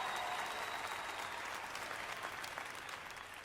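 A comedy-show audience applauds steadily, a dense, fairly loud wash of clapping that continues unbroken and fades slightly toward the end.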